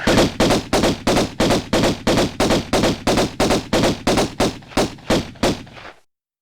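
Rapid, evenly spaced gunshots from Lara's pistols in the video game Tomb Raider, about fourteen loud close cracks in steady rhythm, ending abruptly in silence.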